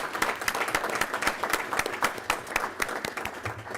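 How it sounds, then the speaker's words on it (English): Applause for police officers at a city public safety committee hearing, a steady patter of many hands clapping from a seated audience, sustained and fairly even for the whole stretch. "let's give all of them a round of applause for our finest"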